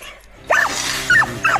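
A dog barks at a secure fenced dog park, with several sharp, close, loud barks and yips after a brief quiet moment, the second and third coming in quick succession. A Cane Corso and a Labrador are present.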